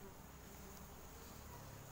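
A steady, dense buzzing hum of many dwarf honey bees (Apis florea) at their nest, continuous and close, with faint background noise and no talking.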